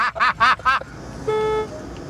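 Three quick vocal bursts are followed by a single short, steady car horn toot, close and fairly loud.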